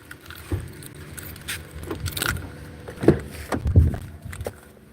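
Keys jangle and clink close by as a new key is handled, with scattered bright metallic rattles and a couple of sharper knocks over a low rumble of background noise.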